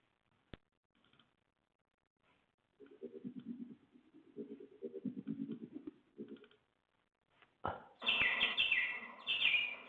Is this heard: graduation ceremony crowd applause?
no